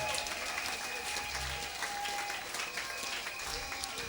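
A church congregation applauds and acclaims Jesus during a French-language worship service, with dense, steady clapping and crowd noise running throughout.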